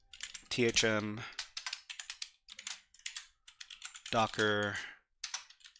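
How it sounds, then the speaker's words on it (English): Rapid clicky keystrokes on a computer keyboard during a Linux hacking session, in short close bursts between and under a man's speech. "So we're just going to type that in"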